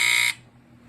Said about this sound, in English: what's unique about this one is it has the AC buzzer